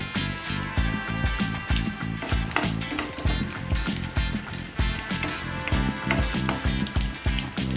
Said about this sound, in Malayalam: ഇനി നമുക്കിതിലേക്ക് ഒരു രണ്ട് കറിവേപ്പില ഇട്ട് കൊടുക്കാം